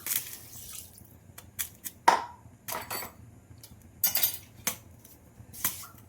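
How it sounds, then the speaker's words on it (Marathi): Sugar and water being stirred in a pan for besan laddu syrup, with a spoon clinking and scraping against the metal in scattered bursts, close and moderately loud with no talking. "आता याला एक तारी होईपर्यंत आपण याला छान हलवून घेऊ"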